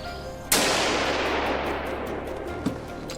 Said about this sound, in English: Gunshots cracked through the forest.